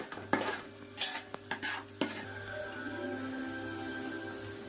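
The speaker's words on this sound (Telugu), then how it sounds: "ఇలా కలుపుకొని ఒక 5 నిమిషాలు మగ్గించుకోవాలి." Stirring chili-spiced curry base for Telugu-style fish curry in a pan, with clinking spoon scrapes and taps in the first two seconds, then a steady soft sizzle underneath, close by.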